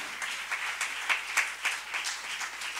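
A church congregation applauds in steady, dense clapping with small swells of louder claps, fairly close and continuous throughout.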